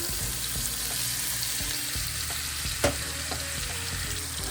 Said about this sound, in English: I'll stir this up to get that butter all melted in there real good